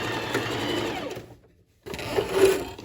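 Sewing machine stitching a lined tailored vest, a close steady whir that stops briefly for about half a second, then resumes for a short reverse run at the end of the seam.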